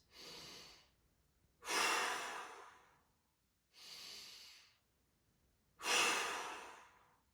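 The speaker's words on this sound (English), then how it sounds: "2 big breaths." Two big breaths taken during a half-kneeling 90-90 mobility stretch: close, airy inhales each followed by a louder, longer exhale, in a steady rhythm with short silences between them and no talking.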